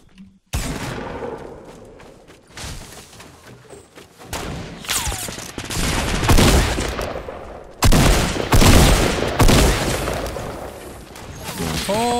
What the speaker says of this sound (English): They shot me through the window.